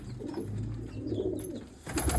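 Pigeons, old adult birds with their young, coo in low, soft, rolling calls at close range, with a brief louder rustle near the end.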